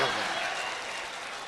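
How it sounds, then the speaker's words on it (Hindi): An audience at a poetry mushaira claps in a brief, dense burst of applause that fades slightly over a second and a half. "जोरदार तालियां।"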